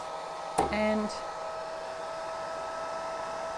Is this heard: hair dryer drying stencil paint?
yes